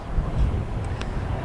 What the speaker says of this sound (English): the wind's really battering into the side of the camera